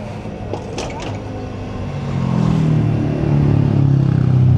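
A Kawasaki E-1 electric motorcycle motor running, a faint steady hum that rises in level partway through, with a few light mechanical clicks early on and no talking.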